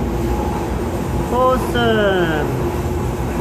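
Steady, loud rumbling fills the interior of the RA903 train as it runs, and a voice speaks briefly over the continuous noise.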